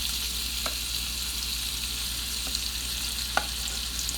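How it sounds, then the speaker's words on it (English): Steak tenderloin and mushrooms stir-fry together in a pan on medium heat, giving a dense, even sizzle throughout with a few faint spatula clicks, close and steady with no speech. "we stir fry everything together, the mushroom mixture and the tenderloin, and we are stir frying them on medium"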